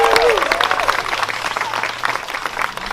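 Wedding guests break into loud applause and cheers for the newly married couple, a dense crowd clapping that carries on steadily with a few whoops and voices over it.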